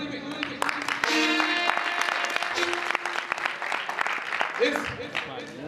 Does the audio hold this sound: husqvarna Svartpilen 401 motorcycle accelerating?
no